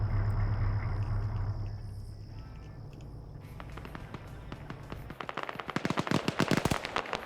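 Video game combat: a distant rumbling battlefield gives way to rapid, sharp bursts of automatic gunfire, the cracks coming faster and louder toward the end.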